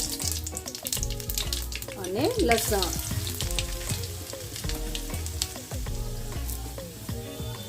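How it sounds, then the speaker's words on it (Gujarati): Mustard seeds, cumin, asafoetida and curry leaves sizzle loudly in hot oil for a leftover-roti tadka, a steady crackling fry with a burst of popping near the middle, and a brief voice speaks once. "તેલ ગરમ થઈ ગયું છે તો એમાં નાખીશું રાઈ, 1 નાની ચમચી અડધી જીરું, 1 નાની અડધી ચમચી હિંગ, પછી નાખીશું મીઠા લીમડાના પાન"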